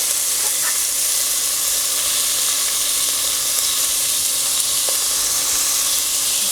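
Leek and onion sauté in a pan with a steady, close sizzle and hiss, a few faint clinks of stirring breaking through the constant frying noise.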